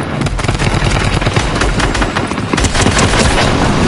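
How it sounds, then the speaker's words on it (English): Rapid gunfire from the new Ice Spice rifle in Fortnite, a dense stream of loud, close shots packed together in quick succession across the whole stretch, with no voices over it. "I messed with this new rifle"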